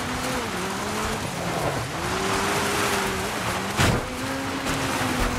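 Racing car in the Dirt 5 game pushed hard through oversteer, its engine droning at a steady pitch with gear shifts and tire scrub, plus a brief sharp burst near the end, loud and continuous without talk.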